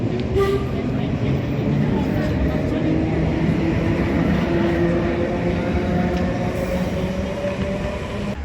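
A London Underground tube train runs with a loud, continuous low rumble and rattle, the wheels grinding steadily and occasional faint squeals rising above the roar.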